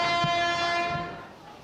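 A train pulls into a station with a brief horn blast over a low rumble, fading away within under two seconds, no speech.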